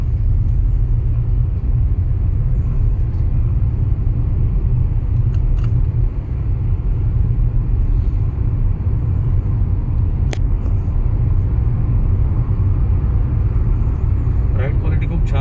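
A Kia Seltos HTX 1.5 driving on the road, heard as a steady, loud low-frequency rumble of engine and road noise that continues unbroken throughout.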